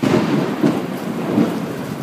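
Thunder from a nearby lightning strike rumbles loud and continuous through heavy rain during an outdoor storm, with no speech.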